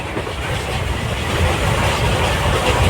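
A train rolls steadily along the rails with a continuous low rumble and faint rhythmic clatter throughout, no voices present.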